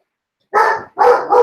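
Luna, a pet dog inside an apartment, lets out two sharp, loud barks close by, separated by a brief silence.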